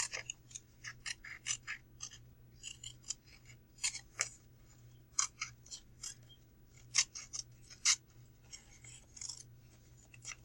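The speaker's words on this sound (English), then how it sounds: "I'm just going to cut around it." Scissors snip around a paper craft design for a Crayola Creations magic transfer, producing quiet, close, irregular crisp cuts with short pauses between clusters of snips.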